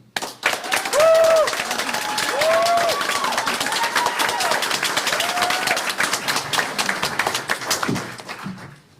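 An audience breaks into steady, dense applause welcoming a speaker to the stage, a continuous roomful of clapping that carries on for several seconds before thinning out, with a few faint voices and a brief cheer mixed in.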